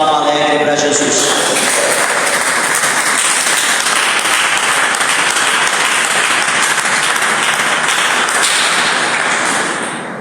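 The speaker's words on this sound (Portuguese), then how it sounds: "dê uma salva de palmas alegre para Jesus" A church congregation claps heartily together, a thick, loud wash of hands that carries on steadily and begins to fade at the very end, with a voice heard briefly at the outset.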